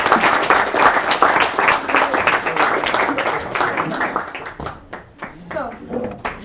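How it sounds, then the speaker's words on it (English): A conference audience at NP Karlskrona 2019 gives a big round of applause, dense clapping that fills the room, loud at first and thinning toward the end, with voices mixed in. "like a big round of applause"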